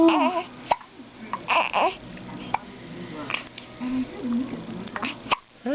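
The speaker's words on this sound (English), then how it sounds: "Ooh, hiccups." A two-week-old newborn hiccups several times amid soft babbling and small fussing noises, while an adult coos and talks nearby.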